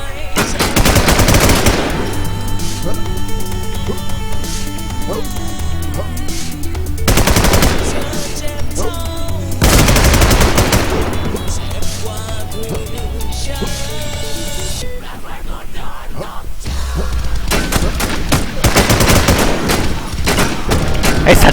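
Rapid machine-gun bursts and gunshots in the WarZ shooter game, loud and close, firing in repeated clusters separated by brief pauses, with a faint voice underneath.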